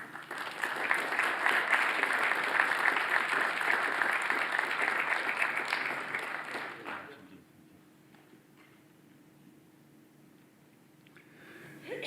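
Conference audience applauding Cardinal Wilfrid Napier as he is welcomed, a loud, sustained round of clapping that fades out after about seven seconds, leaving a quiet room before a small rise at the close.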